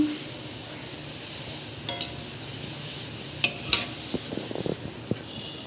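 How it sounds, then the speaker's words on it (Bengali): Cream being stirred in a heated wok to make homemade ghee: a steady low rubbing and scraping texture, with a few sharper clinks and scrapes near the end, close and fairly quiet. "কড়াইটাকে গরম করে কড়াইয়ের মধ্যে দিয়ে দিতে হবে তারপরে এইভাবে নাড়াচাড়া নাড়াচাড়া করে করে ঘি তৈরি"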